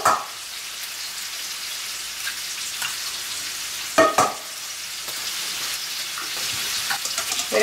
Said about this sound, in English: we leave the bacon cook